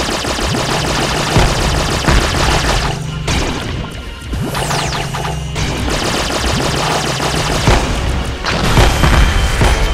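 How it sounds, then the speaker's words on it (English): Loud, dense bursts of explosions and rapid gunfire from a boss fight in the GameCube game Codename: Kids Next Door – Operation: V.I.D.E.O.G.A.M.E., with booming blasts and crashes layered together almost without pause. "It's like explosions"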